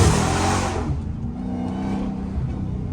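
Loud, close roar of a Dodge Hellcat SRT engine at night, a brief rev that swells and then settles into a lower rumble.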